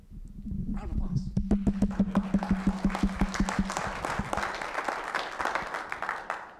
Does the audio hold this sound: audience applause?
yes